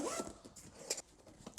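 Zipper on the lockable main compartment of a SW-Motech Engage 7L motorcycle tank bag, drawn in a few short rasping pulls close by, with no one talking.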